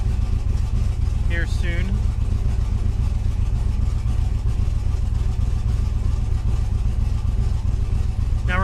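A car engine running on E85 fuel to warm up its O2 sensor, a steady close idle rumble that continues throughout while someone speaks briefly over it.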